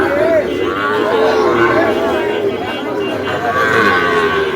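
Sahiwal breed cattle at Ambari market give drawn-out moos, near and loud, over a constant crowd murmur and voices.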